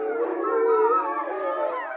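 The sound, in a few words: wolves howling at a zoo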